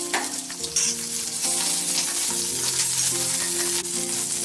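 A tomato mixture fries in a pan with a steady, dense sizzle while it is stirred continuously, close and loud throughout.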